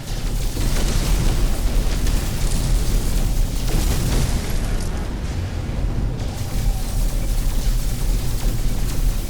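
Cargo pods shot apart and destroyed in No Man's Sky, a dense run of loud overlapping booms and bursts with heavy low rumble that continues almost without pause, briefly dipping in the middle.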